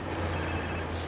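A phone rings in GTA San Andreas, a steady electronic trill filling the whole short moment at moderate loudness over a low background hum.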